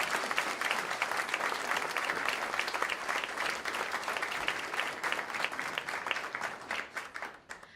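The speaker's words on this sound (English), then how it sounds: "a round of applause for everyone who's helped us today" Sustained applause from an audience at a Law Day bar association event, dense steady clapping with no talk over it, tapering slightly at the end.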